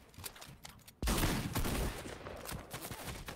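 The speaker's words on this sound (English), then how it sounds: "None of those assault rifle shots are going to make contact either, so now Siri exposed" Assault rifle fire in a Fortnite match breaks out suddenly after a quiet second, a dense burst of rapid shots followed by scattered further cracks, moderately loud.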